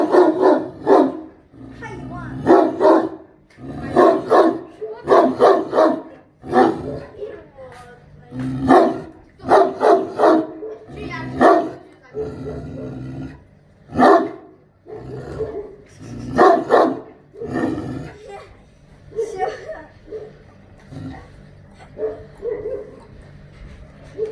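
Turkmen Alabay dogs bark loudly in repeated bursts with yips and short growls, pausing between volleys, with some human voices in the background.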